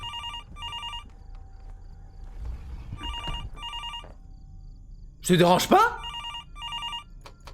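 An in-game telephone in the horror video game Fears to Fathom rings in repeated double bursts, fairly loud and clear, with a short stretch of speech in between the rings.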